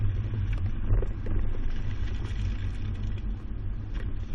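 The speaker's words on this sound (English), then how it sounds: "Now we're at the alternating speed bumps." A 2018 Subaru Outback carrying a Kuat NV 2.0 two-bike rack rolls over alternating speed bumps, giving a steady low rumble of road and engine noise with soft thumps and rattles, no talk.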